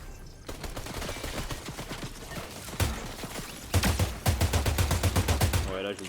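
Gunfire in the video game Fortnite crackles in dense volleys through the whole stretch, with a heavier rapid burst near the end, mixed with game effects and a voice talking over it.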